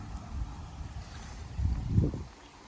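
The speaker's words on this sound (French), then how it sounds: "il y a le vent qui s'est levé" Gusty wind rising over a carp fishing lake, a low rumbling buffet that swells and peaks toward the end before easing, with no voices.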